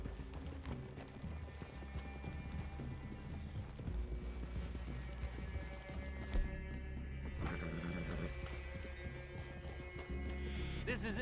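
Horse hooves clip-clop steadily at a walking pace under ongoing game music and ambience in Red Dead Redemption 2, with a brief louder thump partway through.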